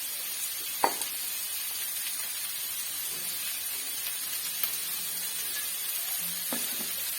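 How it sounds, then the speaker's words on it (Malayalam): Ginger softening in oil in a pan for a Kerala egg roast gives a faint, steady sizzle with a few soft clicks of the spoon against the pan, and no voices. "ഇഞ്ചിയൊക്കെ വഴന്ന് വരുന്നുണ്ട്, ഇവിടെ നല്ലതായിട്ട് വഴന്ന് വരട്ടെ."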